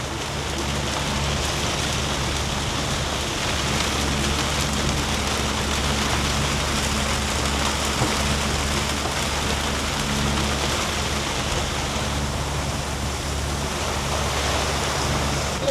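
Rain falls steadily on a Lagoon 44 catamaran at sea, a dense, even hiss that continues without pause, with a low rumble of wind and water beneath it.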